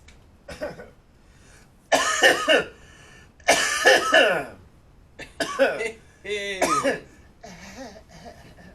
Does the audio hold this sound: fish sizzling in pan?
no